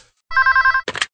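A telephone rings as a short sound effect, one quick burst of bright electronic trills followed by a brief rattling tail, loud and close and heard alone.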